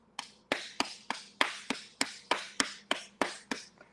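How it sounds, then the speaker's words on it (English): Open hands clapping hard against the body's own skin, about a dozen sharp slaps in a steady rhythm roughly every third of a second, close and loud with no talking. "This is how hard I clap."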